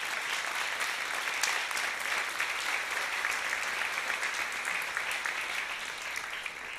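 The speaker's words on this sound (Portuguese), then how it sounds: "Você pode aplaudir ao Senhor bem forte." A church congregation applauds loudly and steadily throughout, a dense wash of many hands clapping at once with no breaks.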